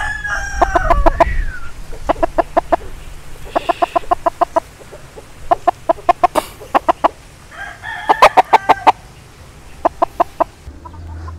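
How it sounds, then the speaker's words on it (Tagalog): Young gamecock stags crow repeatedly in loud, pulsing bursts, several birds overlapping, with clucks between calls on a farm. "Tumitilak na tong mga to."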